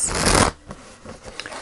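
Tarot cards being shuffled give a short, dense riffling flutter up close, followed by a few faint soft card taps and slides; no voice is heard.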